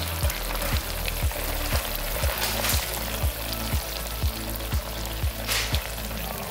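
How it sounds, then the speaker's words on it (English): Hot banoffee pie filling is stirred in a pan, giving a steady, close bubbling sizzle with a regular thumping beat running underneath throughout. "So now we're going to stir it."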